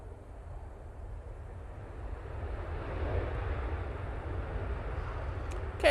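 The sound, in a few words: KLM Boeing 737 airliner landing from Amsterdam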